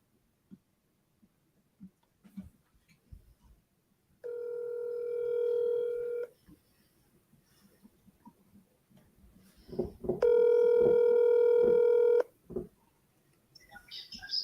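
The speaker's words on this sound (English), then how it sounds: "So let's start dialing." Telephone dialing during a cold call, with scattered keypad clicks, a steady electronic tone held for about two seconds, then more clicks and a second long tone.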